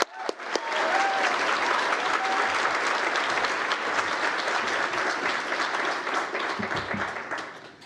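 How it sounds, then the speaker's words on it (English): Audience applause at the National Press Club for Cheek Media's Hannah Ferguson: a sustained, dense wash of clapping from a sizeable crowd that starts abruptly and holds steady for several seconds, easing slightly at the end. "can I have a round of applause for Hannah Ferguson?"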